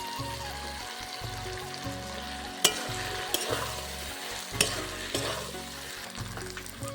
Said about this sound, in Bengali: এই সময় যে আলু আর মাংসটা যে ভেজে রেখেছিলাম আমি একই সঙ্গে দিয়ে দিচ্ছি।